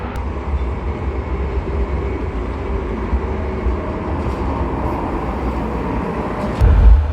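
Steady low rumble and rolling hum from inside a Sheffield Supertram tram in motion, a continuous ride noise with a brief heavier thump near the end and no talk.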